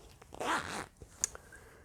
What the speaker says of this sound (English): And this also has a zipper on the inside